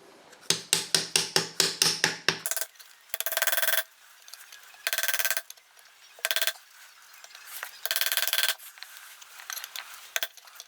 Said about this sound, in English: Just slowly hammer it in.